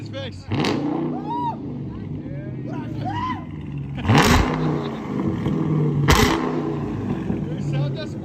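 A straight-piped 2021 Dodge Charger Daytona with a 6.4 liter V8 and 5-inch tips revs in three sharp, loud, crackling bursts over a deep idle rumble, with people talking nearby.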